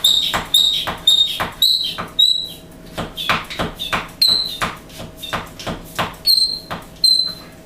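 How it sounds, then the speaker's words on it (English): The vacuum pump plunger on a Blendtec ICB7 blender container squeaks sharply and loudly in a steady series of strokes, each pump giving a high squeal, the part needing oil. "That little squeak there is needs a little bit of oil"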